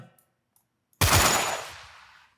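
Silence broken by a single sharp gunshot with a long, fading tail, fired in a Unity video game.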